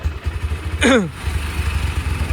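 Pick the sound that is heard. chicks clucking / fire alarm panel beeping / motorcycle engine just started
motorcycle engine just started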